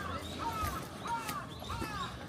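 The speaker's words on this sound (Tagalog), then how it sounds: "may uwak" Near a shrine in Kyoto, Japan, a crow gives a few hoarse caws spaced through the moment over steady outdoor background noise.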